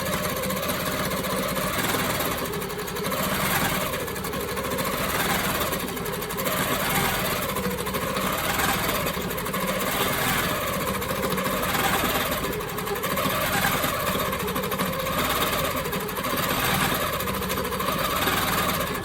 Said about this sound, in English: Okay, so I'm going to go ahead and start quilting.